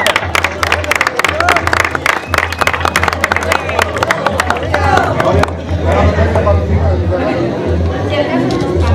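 A crowd at a veterans' football final applauds the team captain: dense, loud clapping with chatter for several seconds, fading into general crowd murmur and voices.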